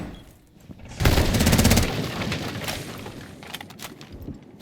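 Rapid gunfire in a competitive Rainbow Six Siege esports playoff match: a loud, dense burst of automatic shots with sharp repeated cracks, followed by scattered single shots and lighter footsteps and movement under the fading mix.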